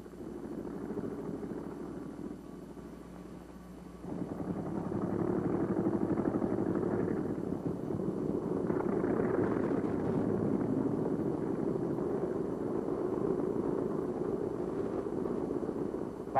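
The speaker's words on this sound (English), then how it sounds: "The ready plane is moving onto the catapult." A 1944 US Navy aircraft engine runs on a carrier deck as the plane taxis onto the catapult, a low rumbling drone that swells louder after a few seconds and holds steady.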